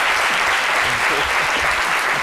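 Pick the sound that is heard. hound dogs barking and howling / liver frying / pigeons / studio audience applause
studio audience applause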